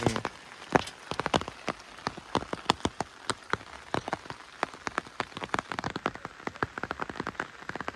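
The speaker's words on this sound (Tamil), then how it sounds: "இங்கே வந்து மழை பெஞ்சிட்ருக்கு." Heavy rain falls during a cyclone, a dense, close patter of drops striking a surface with sharp irregular taps, steady throughout with no talking.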